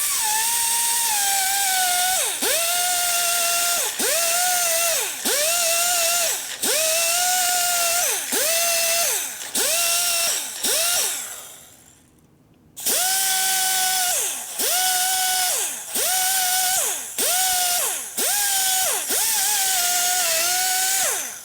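A small rotary tool bit deburring a Harley-Davidson Sportster 1200 cylinder head, whining loudly in repeated bursts of about a second each, its pitch dipping under load at the start of each pass, with a brief pause midway.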